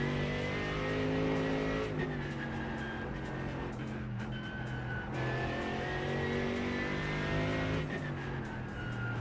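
Race car engine at the Nurburgring in a racing game, loud sustained roar with pitch sweeps as it downshifts and revs, nearby and continuous.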